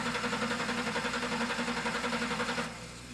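A car engine turning over steadily during a cranking test with an OTC MinuteMan Plus tester, a rapid, rhythmic churning that drops off near the end, fairly loud and close, with no voices.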